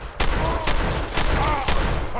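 Shotgun fired in Fallout 4, four loud sharp blasts spaced about half a second apart, each with a short ringing tail.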